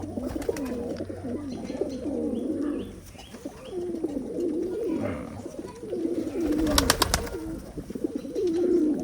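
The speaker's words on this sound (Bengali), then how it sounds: "বাচ্চা খুব ভালো আর খুব টেম্পার কবুতরটা" An old-breed high-flying pigeon from Khulna coos in a rolling, repeated pattern, close and clear, with little else around it.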